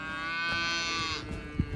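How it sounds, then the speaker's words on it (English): Domestic cattle moo among wild ponies on the Appalachian Trail: one long, loud, close bellow lasting about a second, then fading into quiet outdoor rustling with no talking. "And now a domestic herd of cattle is mingling with them."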